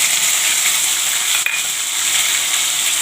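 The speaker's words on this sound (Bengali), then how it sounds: "ফোড়নটা দিয়ে দিচ্ছি, এই যে ফোড়নটা দিয়ে দিচ্ছি" Spice tempering hits hot oil and sizzles loudly and steadily, with one brief sharp tap partway through and no voices.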